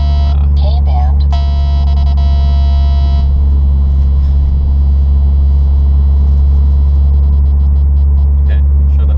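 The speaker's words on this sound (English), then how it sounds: "you guys like to listen to the car while I'm driving and hear the exhaust" A Mitsubishi Lancer Evolution X on the move, its exhaust giving a steady, loud, deep rumble throughout, with faint voices and a few brief higher tones early on.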